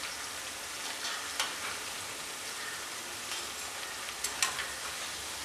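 Potato snack pieces deep frying in hot oil give a steady, fairly quiet bubbling hiss, broken by a few sharp clicks and crackles near the start and again toward the end.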